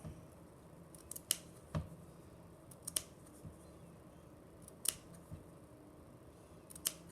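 Scissors snip through felt while a flower bouquet is being made, several crisp, close cuts spaced irregularly over a quiet room background.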